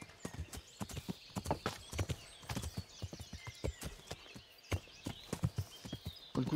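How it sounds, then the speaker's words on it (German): Horse hooves clip-clop steadily at a walking-to-trotting rhythm while riding through a forest in the medieval video game Kingdom Come: Deliverance, close and fairly loud, with a faint whinny and no talk. "ich werde jetzt hier durch den Wald reiten."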